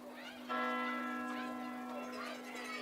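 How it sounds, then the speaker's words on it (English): A bell rings out for third down at a West Virginia high school football game, a sustained ringing tone that starts abruptly and holds steady for a couple of seconds over crowd and field noise. "we hear the bell for 3rd down"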